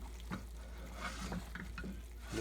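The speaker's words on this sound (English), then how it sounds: "Mix all that in with the lentils." Soft, wet scraping and squelching as a tomato, kale, onion and spice mixture is folded into cooked lentils for dahl, several slow stirring strokes with a faint sizzle underneath.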